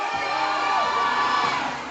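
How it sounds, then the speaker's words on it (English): A crowd at a women's powerlifting meet cheers and shouts after a 227.5-kilo third attempt, a sustained roar of voices close and loud, easing off slightly at the end. "Give her a round of applause."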